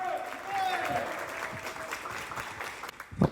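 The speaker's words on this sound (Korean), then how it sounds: "큰 박수로 맞이하여 주시면 감사하겠습니다" An audience applauds union leaders at a Korean national park workers' union wage-agreement rally, a continuous crowd clapping that stays steady and fairly loud, with an announcer speaking over it.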